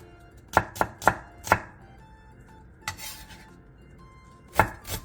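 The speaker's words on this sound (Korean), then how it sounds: "양파 2분의 1개를 채 썰어주세요." A knife slices half an onion into strips on a board, giving four quick sharp chops close together, a pause, then two more isolated cuts, near and fairly loud with no talking.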